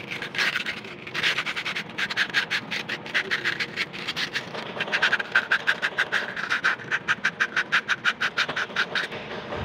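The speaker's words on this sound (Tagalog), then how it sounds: "liha lang gagamitin natin dito" Rapid, rhythmic abrasive scraping of sandpaper rubbing back and forth over a hard metal surface, close up, steady strokes throughout with no talking.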